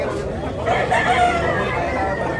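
A rooster crows amid a busy gamefowl gathering in Tabunok, Cebu, its calls rising over a steady murmur of crowd noise and nearby voices.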